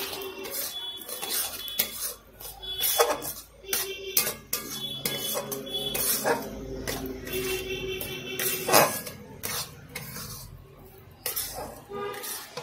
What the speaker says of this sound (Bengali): এখান থেকে আমি 2 চামচ করে চিনি এর মধ্যে দিয়ে দেবো। আর এভাবে মেশাতে থাকবে।